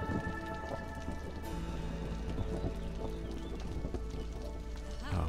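Steady rain pattering on surfaces during a storm in Against the Storm, with a dense continuous wash and low rumbling beneath game sounds.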